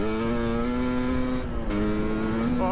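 A 2021.5 GPX Moto TSE250R motorcycle with a Keihin PWK 38 carburetor runs loud and close, holding a steady droning engine note that rises slightly at the end.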